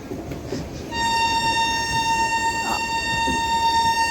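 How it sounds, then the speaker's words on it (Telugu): A train runs close alongside on a parallel track, its steady loud rumble filling the scene while a sustained horn-like tone holds from about one second to the end, over continuous rolling noise. "ధర్మవరం మచిలీపట్నం ట్రైన్ తోటి మనకి ప్యారలల్ రన్నింగ్ అవుతుంది."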